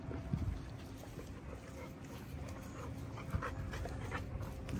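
An XL Pitbull dog pants steadily outdoors, its quick rhythmic breaths close to the microphone, with wind noise and a faint outdoor background.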